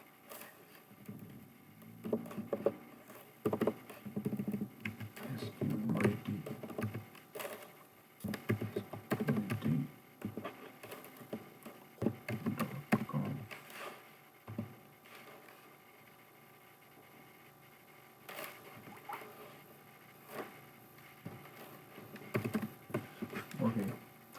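Commands being typed on a computer keyboard while setting up a Squid proxy server on CentOS 7, quick bursts of key clicks with pauses between them, close and fairly quiet, with someone talking at times.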